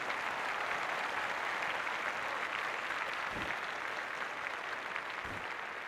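A crowd in a cricket video game cheers and applauds in a continuous, fairly loud roar for several seconds, with a couple of low thumps underneath.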